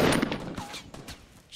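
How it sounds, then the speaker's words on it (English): Shotgun fire in the video game Fortnite: a burst of sharp, loud blasts crowding the opening half-second, followed by fainter scattered shots and game noise. "He's trying to push me with the shotgun."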